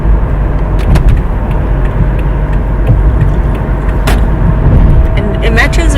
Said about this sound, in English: Now we're in the car.